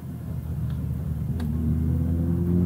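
A BMW M3 E30 runs through a curve, its engine a steady low rumble that rises slightly in pitch and loudness as it goes, heard from inside without talk.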